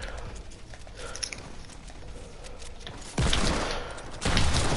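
Video game gunfire comes as rapid bursts of clattering shots in a noisy stream. It swells into louder, denser volleys near the end, and no voices are heard.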